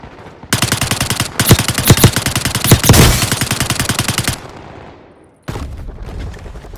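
Rapid automatic gunfire in the mobile shooter Call of Duty Warzone Mobile, loud and close: a long burst of machine-gun fire, a short pause, then more shots, with no talk.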